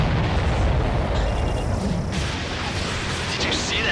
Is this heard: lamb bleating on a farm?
no